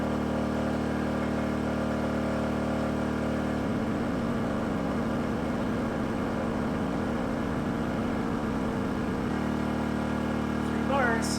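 A gasoline inverter generator runs with a steady, loud engine drone, with a rougher, fuller load passage in the middle. A brief higher squeal comes near the end, and a voice is faintly present.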